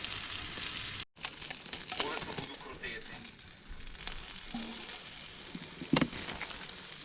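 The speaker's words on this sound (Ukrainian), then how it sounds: "зараз от котлетки дожарюються" Steady sizzling and crackling of cutlets frying in a pan at a wild-water fishing camp in Sumy Oblast, close and continuous, with a brief dropout and a louder clatter near the end.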